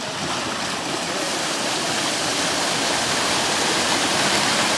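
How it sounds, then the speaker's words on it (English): Water surges through an opened levada sluice gate in Madeira, a loud, dense, unbroken rushing roar close by, steady and slowly building, with no voices. "I'm going to open it up and you can see how much water can come through."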